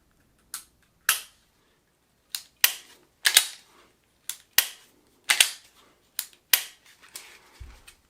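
Trigger of a Taurus GX4 micro 9mm pistol clicking in a dozen sharp, dry snaps at irregular intervals, close and crisp against near silence, with no talk.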